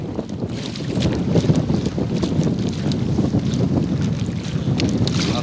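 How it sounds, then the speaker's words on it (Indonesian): Strong wind roars steadily across the microphone on a small fishing boat at sea, with a constant low rumble of engine and water and no one speaking. "Angin sudah kencang, arus sudah kencang."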